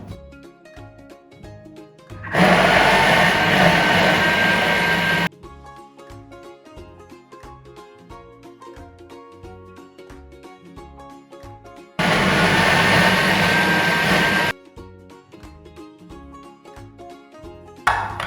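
A food processor minces white button, brown button and shiitake mushrooms in two steady, loud whirring bursts of about three seconds each, separated by quieter background music.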